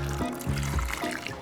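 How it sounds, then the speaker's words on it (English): Water poured into a pan of celeriac trickles and splashes briefly, a close, moderate pour lasting a second or so. "Celeriac goes in, along with a bit of water."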